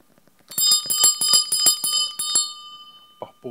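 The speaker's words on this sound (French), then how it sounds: "il devait agiter une cloche pour faire du bruit" A hand bell rung in a series of about a dozen quick, bright clangs, ringing clearly and close, then stopping and letting the tone fade into silence.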